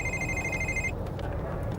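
A telephone rings inside a truck cab, a steady electronic trill heard close for about a second over a low rumbling engine drone before cutting off, leaving only the engine noise.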